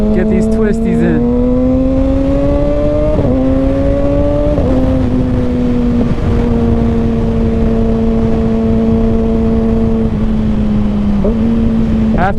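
A 2021 Kawasaki Ninja ZX6R fitted with an M4 Street Slayer exhaust rides through cold mountain twisties, its engine holding a steady buzzing drone with brief rises and dips as the rider shifts and rolls the throttle, loud and continuous under wind.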